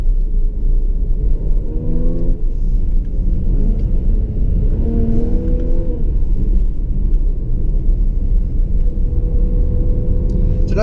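Supercharged V6 of a 2016 Jaguar F-PACE S 35t accelerating from inside the cabin, a steady loud low rumble with rising engine tones that swell twice, continuous with no talk.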